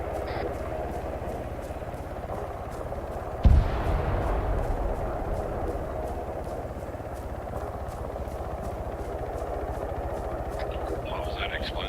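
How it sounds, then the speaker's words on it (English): In a military video game, a single loud explosion bursts out suddenly over a steady rumbling engine-like drone, then fades back into the continuous background hum as people talk over radio. "What was that explosion?"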